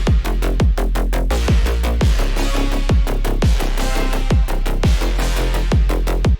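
Drum and bass mix in FL Studio with a punchy kick hitting in a steady bouncing pattern while a sidechained bass ducks under each hit, dense and loud throughout with no voices.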